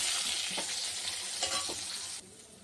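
Eggplant seasoned with turmeric and salt fries lightly in a pan, a steady close sizzle broken by a few soft scrapes of a spatula, then the hiss drops abruptly near the end.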